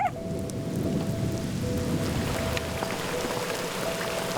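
Steady heavy rain pours in Mississippi, with a broad continuous wash and low rumbling that could be distant thunder, loud and unbroken throughout.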